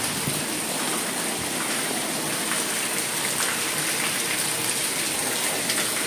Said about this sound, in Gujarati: અત્યારે તો ખતરનાક વરસાદ ચાલુ છે